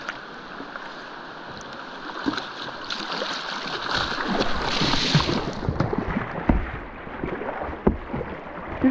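Kayak rolling in water during practice, with splashing, sloshing and gurgling that builds to a busier burst of splashes midway, then scattered drips and knocks, close and fairly loud.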